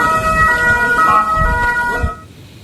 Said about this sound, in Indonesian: Sirine peringatan serangan udara berbunyi lebih dari 15 kali di wilayah tersebut.